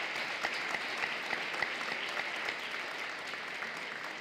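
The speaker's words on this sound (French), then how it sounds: "je pense qu'elle mérite une deuxième salve d'applaudissements" An audience at the closing ceremony of Charleroi's 350th anniversary celebration gives a sustained round of applause, an even wash of many hands clapping at moderate distance with a few sharper claps standing out.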